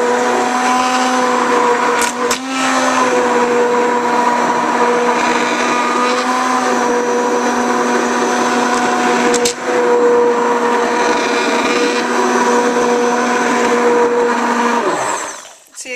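An immersion blender churning soap batter on a farm, a loud, steady motorized whir running continuously for about fifteen seconds with a couple of brief dips, then spinning down at the end.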